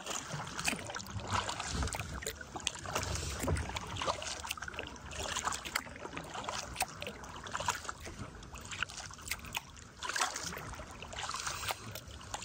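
A paddle dips and pulls through the water of a calm lake with rock formations as a small boat moves along, a steady close sequence of splashes, drips and trickles.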